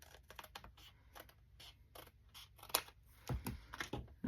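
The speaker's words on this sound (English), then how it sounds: "Really bad at the free-handed scissors cutting." Freehand scissors snipping through paper in a series of short, quiet crisp cuts, irregularly spaced, with a louder cluster of snips near the end; no voices.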